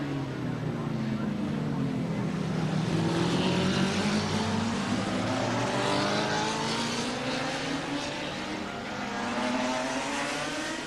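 Production motorcycles race in a 1984 street race at Gracefield, their engines a steady, loud roar that swells and sweeps in pitch as the bikes pass, continuous for the whole stretch.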